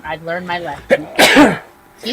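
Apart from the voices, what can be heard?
sneeze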